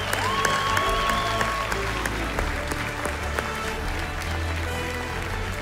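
Audience applause at the 2022 Anahit film awards ceremony (3rd edition): a steady, full-room clapping that holds loud and even for several seconds, with faint music tones at the start.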